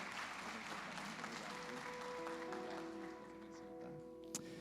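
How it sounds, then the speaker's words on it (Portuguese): Applause for a couple fills a church, a steady wash of clapping from the congregation that softens toward the end, with faint tones under it. "Uma salva de palmas ao casal"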